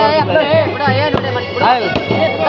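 A couple of sharp firecracker bangs pop out over loud, continuous voices of people talking close by at a village fair.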